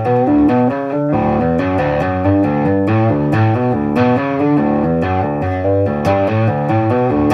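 An electric guitar run through effects and distortion plays the riff of Angels and Airwaves' Mercenaries at a slow tempo, with steady, evenly spaced notes that are loud and close, and no talking.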